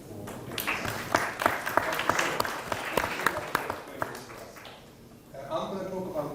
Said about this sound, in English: So round of applause for MCF talented team for putting this up.